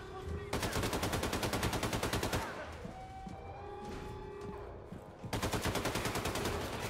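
Rapid automatic gunfire in the shooter game Wolfenstein II, a loud rattling burst opening and closing the stretch with quieter game ambience and single tones between.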